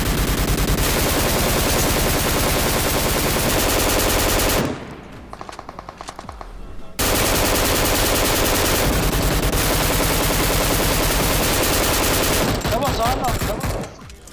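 Rapid automatic gunfire from PUBG Mobile, loud and sustained in long bursts with a brief quieter gap midway, ending in more scattered shots.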